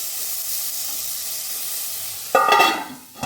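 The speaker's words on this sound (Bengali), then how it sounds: "বাহ, আলুটা, আমটা, পেঁয়াজটা সবই ভালো করে ভাজা হচ্ছে" Potatoes, mango and onions fry in a pan for a fish curry, a soft steady hiss that swells into a sudden louder burst of sizzling and steam near the end.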